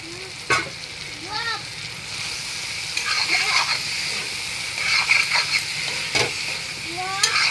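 Potatoes stirred in a frying pan while cooking paneer puri, a soft continuous sizzle with scraping stirs and occasional clinks of the utensil against the pan.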